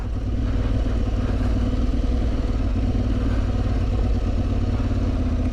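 Aprilia Tuareg 660 motorcycle engine ticking over on a descent, a steady low rumble with light mechanical clatter, close and constant throughout.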